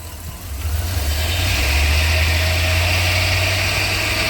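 A Mopar 318 (5.2) V8 settles into a steady, close idle after a slight rise at the start, a low, even rumble with no misfire and no one speaking.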